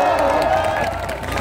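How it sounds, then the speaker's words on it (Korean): An outdoor crowd at a rally in Gwanghwamun Square claps and cheers, a sustained wash of applause mixed with murmuring voices and some talk in the background. "처음 효자 된 저에게도 박수 한번 보내주십시오."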